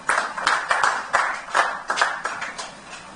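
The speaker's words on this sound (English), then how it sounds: "So let us give them a round of applause." Audience applause at a Rotary International joint district conference in Abuja, honouring Rotary clubs from Ibadan: a short, uneven burst of hand clapping with several stronger peaks, fairly close, with no talk over it.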